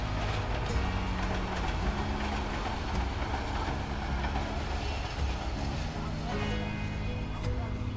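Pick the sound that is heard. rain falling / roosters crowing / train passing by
train passing by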